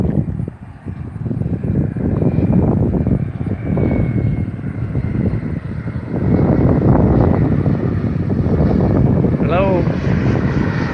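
Propeller airplanes pass overhead outdoors on a hot day, a steady broad droning rumble that swells and fades across the sky, with people talking at times beneath it.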